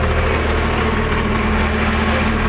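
A tractor engine runs steadily while sowing soybeans in a field, a loud, continuous low rumble with a constant droning tone and no breaks or voices.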